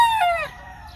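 A rooster at a gamecock farm lets out a loud, close crow that falls in pitch and trails off within half a second, over faint low background noise.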